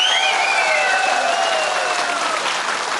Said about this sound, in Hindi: उसके लिए जोरदार ताली बजाई हमारे सीएम साहब के लिए।